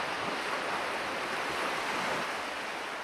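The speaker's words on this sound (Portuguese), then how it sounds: "O rugido das ondas ecoava pela ilha de Mondória" Ocean waves roaring against an island shore, a dense, continuous broadband wash of surf with no breaks, steady and fairly loud throughout.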